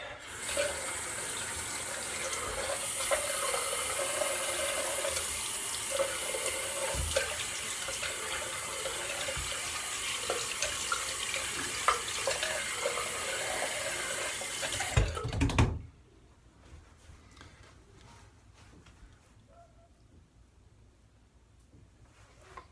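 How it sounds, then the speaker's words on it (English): Tap water runs steadily and loudly into a sink for a cold water rinse during a straight-razor shave, then cuts off abruptly, leaving faint room noise. "All right, into my cold water rinse."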